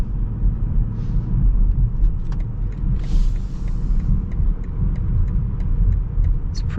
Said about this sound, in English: Tons of low end torque so far. Nice V8 sound too.